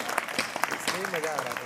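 Applause from a kavi sammelan poetry-recital audience in Amgaon, a short burst of scattered clapping heard alongside a voice speaking over it.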